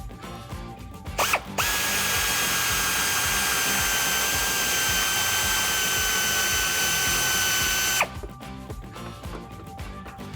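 A power tool spins a 19mm socket to back out side bolts on a Jeep Wrangler JL rear bumper, making one loud, steady whirring run of about six seconds. Short ratchet clicks sound before and after it.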